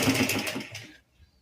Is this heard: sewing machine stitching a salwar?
yes